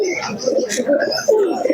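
Pigeons cooing at the Shantipur pigeon market on the day before Eid, loud and close with overlapping throaty coos and a few higher chirps amid busy market noise.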